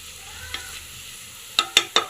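Onions browning in a pan give a soft, steady sizzle, then three sharp clinks of a spoon stirring against the pan ring out close together near the end.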